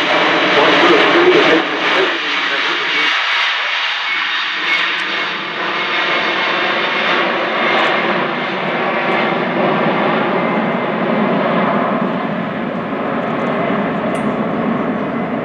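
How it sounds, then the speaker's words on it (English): An Airbus A380 airliner passes at the Farnborough International Airshow, its engines producing a loud, broad continuous roar that holds steady across the whole pass while a commentator talks over it. "To see this large aircraft drifting gently past."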